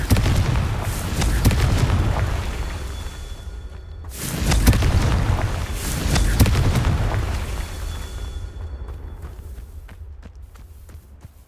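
Explosive spell blasts from the Confringo fire spell in the Hogwarts Legacy video game, fought against a giant spider: two heavy booming bursts with rumbling low-end tails, loud and close, followed by fainter crackling impacts.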